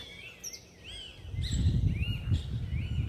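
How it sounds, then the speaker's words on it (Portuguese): Songbirds singing, several clear chirps and whistled phrases close by over a low rumbling background noise that grows louder in the second half. "Não tem coisa melhor do que você escutar os passarinhos cantando."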